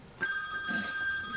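A telephone rings during a committee hearing, with a bright electronic trill that starts abruptly and holds steady tones to the end of the clip. No one speaks over it.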